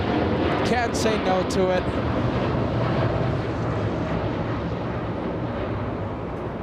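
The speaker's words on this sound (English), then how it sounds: "Big Dreamliner, let's go for it." A Boeing Dreamliner airliner flies past at LAX airport, its broad steady engine roar filling the scene from start to finish under a voice talking early on.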